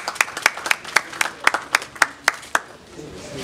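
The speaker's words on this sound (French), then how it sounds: "Est-ce qu'on peut applaudir pour..." About ten crisp, evenly spaced claps from a small group in rhythmic unison at a community mask donation event, ending abruptly with faint room noise.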